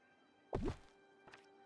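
A smoke bomb effect in the video game Disney Dreamlight Valley gives a single soft, muffled thunk with a short whooshing puff, followed by a faint tap a moment later, quiet overall.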